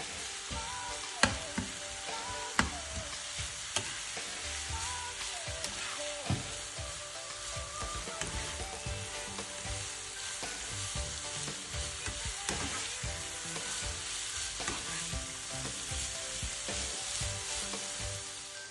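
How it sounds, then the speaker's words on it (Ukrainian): Mushrooms and vegetables sizzle and crackle steadily in hot oil, with a few sharper pops and clicks early on and no talking. "Поки смажаться грибочки овочі"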